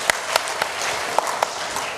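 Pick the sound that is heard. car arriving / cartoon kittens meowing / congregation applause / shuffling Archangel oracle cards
congregation applause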